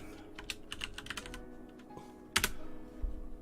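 A computer keyboard clatters as a Google search is typed: a quick run of close key taps, a short pause, then a sharper cluster of strikes, with no voices over it.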